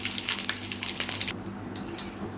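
Ginger sautéing in a pan for Indian ginger pickle, giving a steady, close sizzle and spitting crackle that continues unbroken, with no voices.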